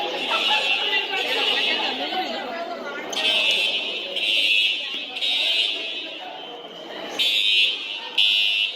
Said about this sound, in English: This is the first time ever the fire alarm has gone off at lunch.